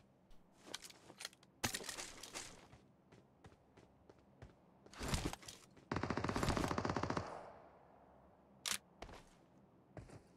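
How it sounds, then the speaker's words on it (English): Automatic gunfire in the mobile battle-royale game PUBG Mobile, with sharp single shots scattered through and a dense sustained burst in the middle, loud and close, with no talk. "He's shooting it from this house."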